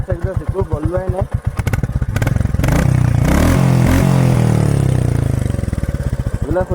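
A new motorcycle with its stock exhaust runs loud and close, idling with a steady pulsing beat, then revving up sharply around the middle before settling back to idle.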